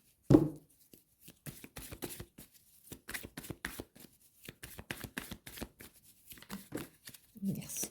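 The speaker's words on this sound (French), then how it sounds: "je vais mélanger mes cartes" Tarot cards being shuffled by hand, a run of quick papery riffles and slaps in uneven bursts, close and fairly quiet, with a voice heard faintly at moments.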